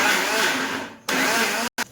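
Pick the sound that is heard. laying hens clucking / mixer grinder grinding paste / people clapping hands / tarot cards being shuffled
mixer grinder grinding paste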